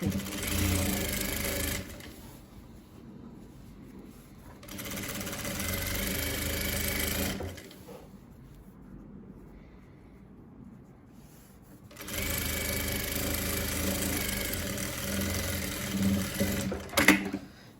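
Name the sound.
sewing machine stitching the hem of a dish towel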